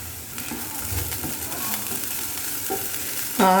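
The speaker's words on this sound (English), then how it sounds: "Let the onions cook well and become light golden in color. Add little turmeric powder. Give a nice mix and let the onions cook." Onions fry with turmeric powder in a pan, giving a steady close sizzle throughout with light stirring scrapes, and a brief tonal clink near the end.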